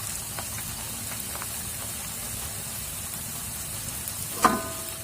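Quiet, steady sizzling of bananas frying in hot oil, with a brief clatter near the end and no talking.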